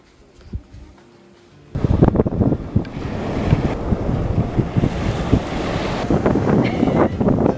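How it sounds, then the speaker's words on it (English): Strong wind gusts batter the microphone at a Big Sur coastal campsite, a quiet start giving way to loud, continuous rumbling buffeting with crackling bursts that carry on throughout, with no talking. "Because it's really windy."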